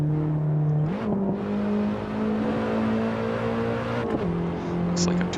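A BMW E30 M3 engine in the racing game Assetto Corsa hums at steady revs with a couple of gear-change dips, sounding somewhat hollow and droning throughout.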